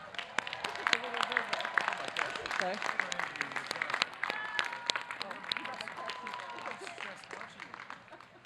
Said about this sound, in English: please let us applaud those candidates who have just received the BS